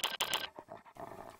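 Dogs in a video game, heard close and loud: a few rapid panting bursts at first, then a couple of short rough growl-like sounds, all with no talking.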